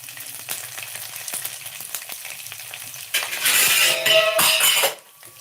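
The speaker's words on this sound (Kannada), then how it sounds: "ಇದಕ್ಕೆ ಸ್ವಲ್ಪ ಒಣಮೆಣಸಿನ್ಕಾಯಿ ಹಾಕ್ಕೊತೀನಿ ಸ್ವಲ್ಪ ಬೆಳ್ಳುಳ್ಳಿ ಹಾಕೊಳ್ಳೋಣ" Dried red chillies and garlic hit hot oil in a pan, with chana dal already in it. Faint stirring clinks come first, then a loud, dense sizzle bursts in for about two seconds before dying down.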